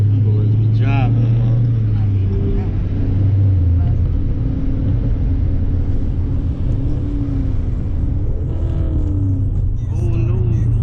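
Cars driving at a nighttime car meet: a loud, close engine rumble with revving rising and falling throughout, while people talk over it.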